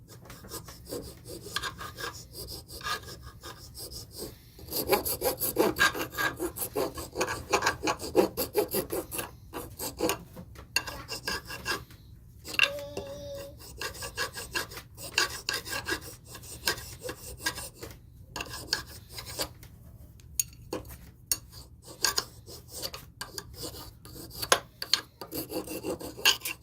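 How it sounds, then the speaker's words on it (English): Sandpaper rounds off the ends of a cut wooden dowel rod for an 18th-century style shot pouch, giving a steady, close, dry rasping rub in repeated strokes that grow louder partway through. "took a piece of sandpaper and just rounded off both ends"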